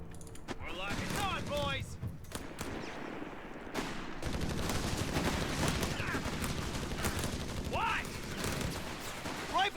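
MG42 machine gun fire in a video game crackles in dense, overlapping bursts amid other battlefield gunfire and mechanical clatter, with faint voices mixed in.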